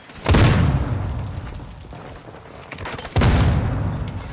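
Gunfire in a Call of Duty match: two heavy booming bursts of shots, one at the start and another near the end, with a rumbling tail between them, close and loud.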